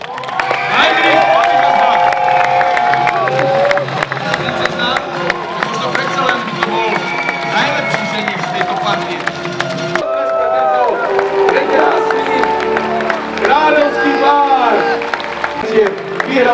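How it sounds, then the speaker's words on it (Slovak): A large outdoor crowd at a knights' tournament at a castle cheers and applauds continuously and loudly, with shouting voices and clapping blended into a steady roar throughout. "získal kráľovú dcéru i burlivý potlesk nadšeného publika"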